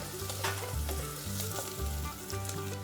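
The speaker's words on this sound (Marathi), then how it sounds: "तीन चार लवंगा आणि दोन तमालपत्र घातले पुन्हा आपण परतून घेऊया" Black peppercorns, cloves and bay leaves sizzle steadily in hot oil in a pan while being stirred, a continuous close frying hiss with soft scraping, no voices.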